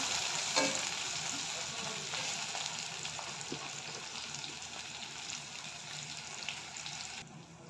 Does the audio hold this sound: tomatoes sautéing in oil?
yes